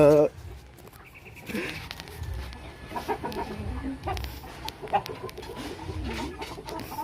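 Newly hatched Brahma chicks, still wet, chirp in a backyard, with short peeps scattered under people talking and laughing close by.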